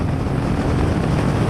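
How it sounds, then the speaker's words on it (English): A Porsche GT3 RS and a BMW M3 CS run a standing quarter-mile drag race, heard as a loud, unbroken engine roar at full throttle mixed with heavy wind buffeting. "First up, a standing quarter-mile drag race."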